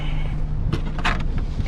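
A power-operated liftgate on a used Ford Escape small SUV whirs in a steady motorized hum, with a couple of brief clunks and latch clicks midway, close by and fairly quiet, with no talking.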